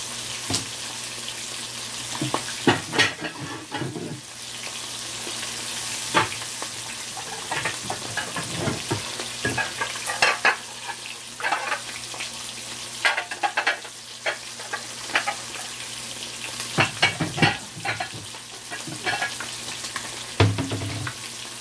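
Escovitch-style yellowtail snapper and jack fish fry in hot oil with a continuous loud sizzle, broken by frequent sharp pops, splatters and occasional utensil clinks.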